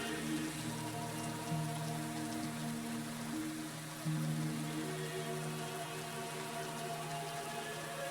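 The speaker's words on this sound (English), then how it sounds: "And now it's raining." Rain in Kingdom Come Deliverance II falls in a steady soft patter over a low game ambience, continuous and fairly quiet throughout.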